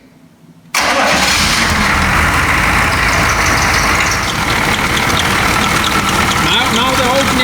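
A Chevy Van G20 with a 6.2 diesel engine catches after its glow plugs warm the block, then runs loud and steady at a rough idle close by, with someone talking over it.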